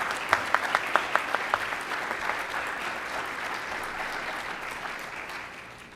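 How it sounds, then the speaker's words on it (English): An audience applauds a group of finalists at a student employee of the year ceremony, with a few sharp individual claps standing out at the start of steady clapping that gradually fades. "Let's give this group of finalists one last round of applause."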